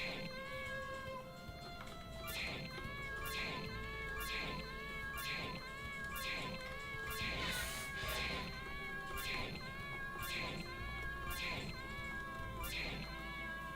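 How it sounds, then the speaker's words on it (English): Game cat from an RPG Maker MV title meows repeatedly each time it is petted, a regular series of short calls over steady game music, with a person talking intermittently alongside. "Let's pet the cat."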